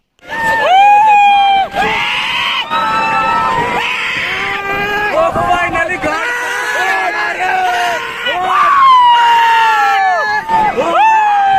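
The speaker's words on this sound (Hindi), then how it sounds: "तो भाई साहब जब इस झूले पे चढ़ोगे ना तो चिल्लाना ही पड़ेगा" Riders scream loudly and continuously on a swing ride at a fairground mela, with long, rising and falling shrieks from many voices close by.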